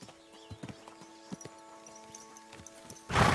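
Horse hooves clip-clopping in Kingdom Come: Deliverance 2, a steady run of light, moderately close hoof knocks over a quiet background, ending in a sudden loud burst of broadband noise.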